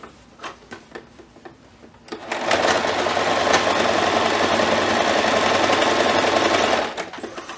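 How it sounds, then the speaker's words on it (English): A sewing machine stitching a zigzag seam finish on a box pouch, beginning with some quiet handling clicks, then a loud, steady mechanical whir running continuously for about five seconds before stopping. "we're going to set our machine on a zigzag and we'll put a nice zigzag as our seam finish for this side"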